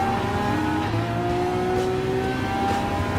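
Lamborghini hypercar engines rev and drone at the start of a race at Monza in Gran Turismo Sport, a loud, sustained mechanical tone with rising pitch as cars accelerate.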